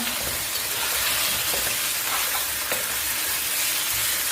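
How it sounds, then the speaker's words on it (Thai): Pork ribs and lemongrass stir-fried in a hot pan give a dense, continuous sizzle with bursts of spatula stirring throughout, close and loud with no voices. "ตอนนี้ก็เปิดไฟ ผัดได้เลยนะคะ"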